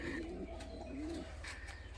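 Soft, low coos from a pair of white Giribaz pigeons repeat in a slow rolling rhythm, close by and fairly quiet, with faint background noise.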